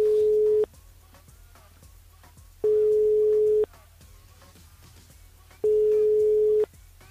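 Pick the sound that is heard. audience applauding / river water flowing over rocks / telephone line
telephone line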